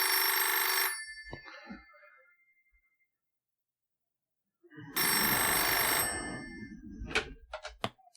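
A telephone bell rings loudly in two bursts separated by a few seconds of silence, with brief clattering noises after each ring.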